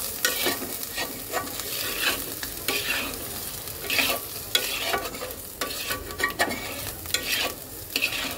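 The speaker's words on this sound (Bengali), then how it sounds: "চলো এখন আগে এটাকে সুন্দর করে কষিয়ে নেই" Spices with ground turmeric and coriander are stirred and fried in a pan as the masala base for a thin katla fish and potato curry. A steady sizzle runs throughout, broken by repeated scraping strokes of a spoon, close and alone.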